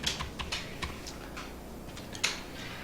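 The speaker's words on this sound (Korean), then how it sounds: "계산서 보고 그대로 타이핑을 쳐주십니다." Someone types on a computer keyboard while entering invoice figures, a steady run of light, close key clicks with one sharper tap near the end, alone with no talk.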